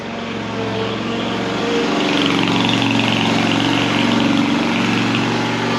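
A lawn mower engine drones steadily at close range, a loud, even mechanical hum that swells slightly midway and holds without pause, no talking over it.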